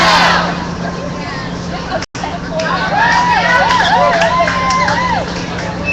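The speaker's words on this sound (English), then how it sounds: "Got a nice exuberant crowd out here" An exuberant crowd of demonstrators at an outdoor protest, a steady babble of many voices with shouts and cheers swelling from the middle onward, fairly loud and continuous.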